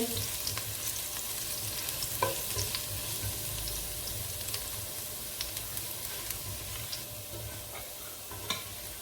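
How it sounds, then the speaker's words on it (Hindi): Steady sizzling of garlic frying in hot oil, continuous and close, with occasional light scrapes and clinks of a utensil. "इसमें लहसुन डालेंगे, हल्का सा ब्राउन होने देंगे।"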